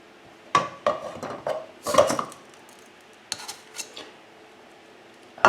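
Sugar poured into a non-stick saucepan while making fudge: a cluster of close, clattering pours and scrapes, then a pause before a few softer knocks and a final sharp tap.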